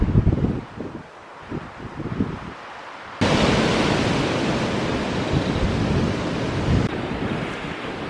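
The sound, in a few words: strong wind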